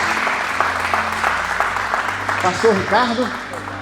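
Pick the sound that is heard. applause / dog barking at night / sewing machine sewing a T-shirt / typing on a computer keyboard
applause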